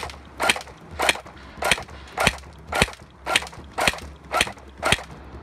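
Toy-Tec P90 airsoft electric gun (AEG) firing single shots with the noise effect reduced, giving nine sharp, evenly spaced clacks about every half second, close and loud with no talking.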